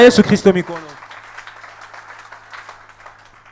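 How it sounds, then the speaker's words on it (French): Congregation in a church applauding after a sermon, a soft, steady patter of clapping that follows a brief spoken line from a man and fades gradually. "Applaudissons le Seigneur."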